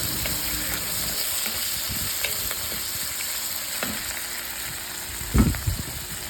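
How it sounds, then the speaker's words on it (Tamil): Onions sautéing in a hot pan as the base for a mutton gravy, with a steady soft sizzle throughout and occasional stirring clatters, one louder scrape near the end. "இப்போ அந்த வெங்காயத்தை போட்டு நல்லா வதக்கி எடுத்துக்கலாம்."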